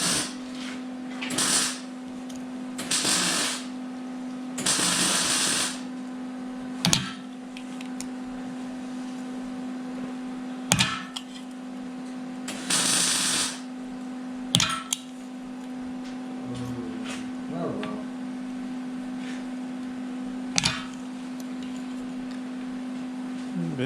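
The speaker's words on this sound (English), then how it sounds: "You can curve with this one, but the Beverly shear works a lot better for curving." A Chinese-made Beverly shear cuts sheet metal into a curve for a 1931 Ford Model A firewall repair. Repeated crunching snips and clanks sound at irregular intervals over a steady electrical hum.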